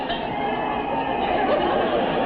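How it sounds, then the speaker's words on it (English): Crowd gathered for a jump stunt in Vegas, a steady, dense murmur of many voices chattering at moderate distance without pause. "Listen to that crowd."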